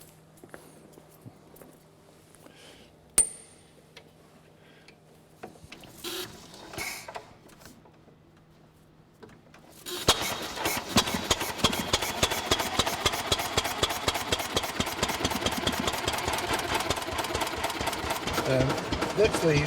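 An old museum engine machine is cranked with scattered clunks and knocks, then fires up about halfway through and runs loudly with a rapid, steady mechanical chatter until the end.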